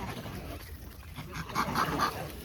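Monkeys growling and whimpering at close range amid a troop, with a short cluster of rough, whiny calls near the end over a steady outdoor background.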